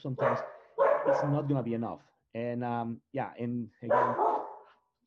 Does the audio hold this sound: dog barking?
yes